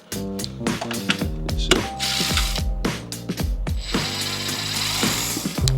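A hand ratchet clicks in quick bursts while backing out sway bar bolts on a Can-Am Ryker, the pawl chattering close and clear with short pauses between strokes and a metallic clink near the end.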